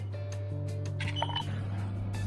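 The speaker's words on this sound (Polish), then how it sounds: "Słyszycie ten sygnał? To znaczy, że już czas na wyjęcie naszych krupnioków, kaszanek z piekarnika." An oven timer beeps when sausages finish baking, giving a string of short electronic tones in a quiet kitchen. A low, steady hum runs beneath the beeps, and no one speaks.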